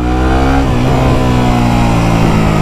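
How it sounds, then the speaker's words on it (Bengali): A motorcycle engine growls steadily as it engine-brakes through downshifts, the revs shifting briefly twice, loud and close with no talking. "জাস্ট একটু গোংড়ানোর আওয়াজ আসতে পারে বাইক থেকে"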